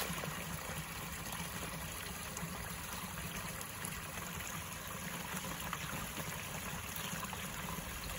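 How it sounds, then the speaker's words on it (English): Small six-inch waterfall on a forest trail in the White River Valley near Branson, Missouri, giving a faint, continuous trickling and burbling of water from close by, steady with no voices. "The 6-inch waterfall I was hearing, but man, it doesn't take much"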